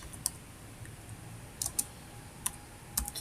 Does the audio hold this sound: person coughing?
no